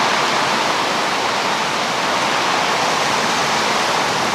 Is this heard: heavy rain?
yes